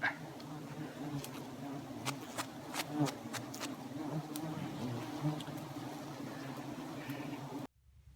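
Bees buzz close around a wild hive, a dense, steady hum with brief louder passes that stops abruptly at the end.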